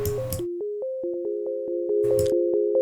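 A dry synth pad holds steady, clean tones that step between a few pitches, with no reverb tail and brief noisy bursts near the start and later.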